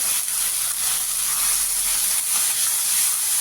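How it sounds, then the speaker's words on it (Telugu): Ground paste for a tamarind-leaf rasam sizzling in hot oil, a loud, continuous bright hiss that stays even throughout, with no voices. "ఇప్పుడు మనం గ్రైండ్ చేసిన పేస్ట్ వేస్తాను."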